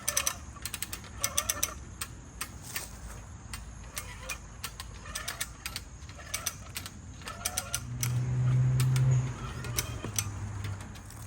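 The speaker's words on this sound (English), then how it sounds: "This cable is really smooth, so I'm hoping that my little wire puller here will grip it." A small wire puller ratchets tension onto smooth 1/8-inch T316 stainless steel cable, giving a run of sharp, repeated clicks and creaks in irregular bursts, with a brief low strained groan near the end.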